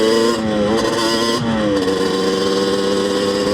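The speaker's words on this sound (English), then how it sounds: "we may need to idle up a little bit, but I don't think that we're adequately opening the throttles evenly" A Banshee supermoto engine buzzes loudly up close, its raspy two-stroke note rising and falling through a couple of quick throttle blips before settling into a steady high idle.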